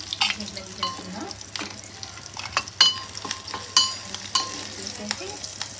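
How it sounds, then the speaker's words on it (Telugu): Prawns sizzling in a hot pan, a continuous frying crackle broken by repeated scrapes and clinks of a spatula being stirred through, close and fairly quiet. "ఇలా రొయ్యలు ఇలా ఫస్ట్ వేయించేసుకోవాలి"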